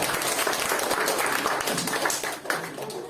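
A church congregation claps in praise to God, a fairly faint, continuous patter of many hands clapping with a slight dip near the end.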